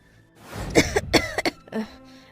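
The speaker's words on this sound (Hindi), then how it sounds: "तभी एक बूढ़ी औरत खांसते हुए कहती है" An old woman coughs several times in a row, rough and close, with a short throat-clearing burst near the end of the fit.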